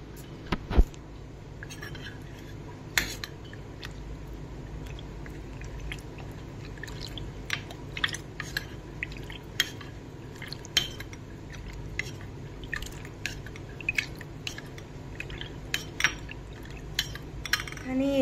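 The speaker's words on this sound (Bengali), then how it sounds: "এবার এটাকে মিক্স করে নেবো এটার মধ্যে।" Spoon clinking and scraping against a pot while custard powder is stirred into a mixture for fruit custard, with soft irregular taps and light liquid sounds, quiet and close, under a low background hum.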